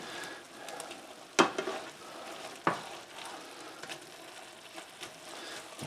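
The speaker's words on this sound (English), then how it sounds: "let's check on this burger here. Oh, it's browning up nicely" Ground beef browning in a pan for Coney sauce, a gentle steady sizzle close by, broken by two sharp clanks of a utensil against the pan and a few lighter scrapes.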